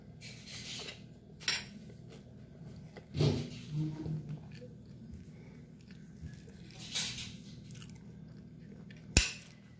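A spoon digs into a crunchy Chokito chocolate cake served in a pot, followed by close chewing, with a few scraping and clinking spoon sounds and a sharp knock near the end, over quiet room background.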